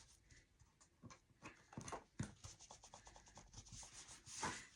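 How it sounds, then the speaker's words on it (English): Close, steady rubbing over a rub-on transfer on a Christmas home decor piece to lift off the excess, a dry scratchy stroking in uneven back-and-forth passes with a few louder scrapes, no talking. "I'm just going to go rub right over it again to get all the excess off."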